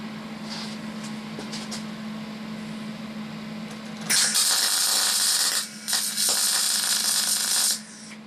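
A MIG/MAG welding torch at medium power gives a loud, steady hiss and crackle that starts halfway through over a constant low electrical hum, with one brief dip before cutting off near the end.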